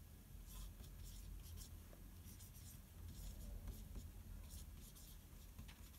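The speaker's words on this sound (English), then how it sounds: "we can just get our whiteboard marker and write" A whiteboard marker squeaks and rubs across a homemade dry erase board in short, quick strokes over a steady soft hiss, close and fairly quiet, with no talking.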